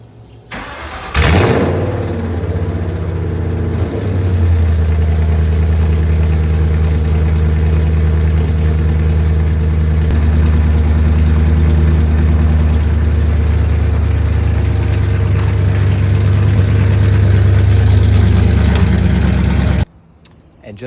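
A Ford Mustang GT drift car cranks and fires up, then settles into a loud, steady idle with a deep, lumpy rumble. A brief blip raises the revs partway through before the engine is cut abruptly near the end.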